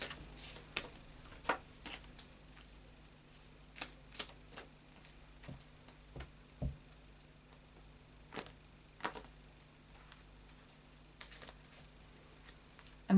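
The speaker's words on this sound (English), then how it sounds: "I'll just do another shuffle now" Oracle cards being shuffled by hand, with soft riffling flicks and light taps coming in irregular bursts against a quiet background.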